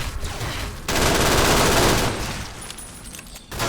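Gunfire from allied fighters in Fallout: New Vegas comes as a loud, dense burst of rapid shots that holds steady for a few seconds, fades slightly, then flares again at the end.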